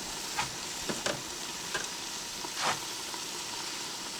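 Scraping a heated grill grate clean before searing steak: a few short, faint metallic scrapes spaced irregularly over a low steady background hiss, no voices.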